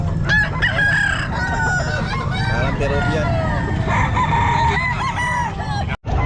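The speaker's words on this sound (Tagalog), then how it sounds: "Ang laki ng manok." A large rooster crows repeatedly at a pet market in Calumpit, loud and close, with other fowl clucking and honking around it and a little talk in the background.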